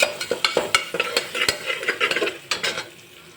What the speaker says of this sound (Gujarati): 2 નંગ જેટલી ઝીણી ચોપ કરેલી ડુંગળીને આપણે ગોલ્ડન બ્રાઉન સુધી હું સાતળી લઈશ